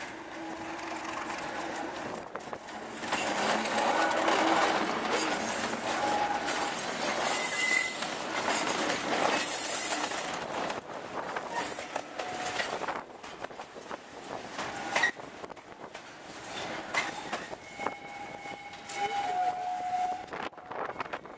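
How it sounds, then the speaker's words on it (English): A passenger train hauled by a Class 57 diesel locomotive arrives from London Euston, a loud, sustained rumble and rail noise building near the start, with wheel squeal and faint tonal whines later as it slows. "There we are, Les Ross arriving from London Euston."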